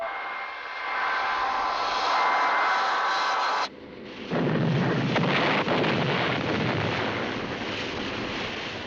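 A WWII-era aircraft engine drones loudly overhead at sea, a steady roar that cuts out abruptly midway and returns as a rougher, louder rumble with heavy low-end blast-like texture.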